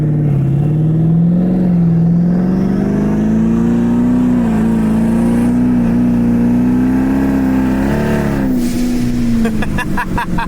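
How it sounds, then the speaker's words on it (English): A twin turbo Mach 1 pulls at part throttle, its engine drone rising steadily in pitch, loud and close from inside the car, with turbo whoosh and a blow-off valve hiss near the end. "part throttle on these twin turbo cars always sounds the best"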